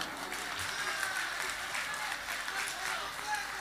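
An audience at a live college concert applauds, a broad, even patter of many hands clapping that carries on steadily at a moderate distance without breaks.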